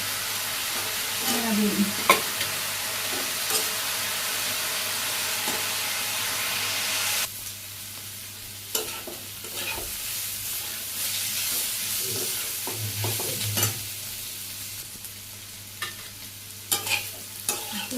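Eggplant fries in a pan with a loud, continuous sizzle. Repeated stirring scrapes and clinks follow, and partway through the hiss drops to a quieter crackle.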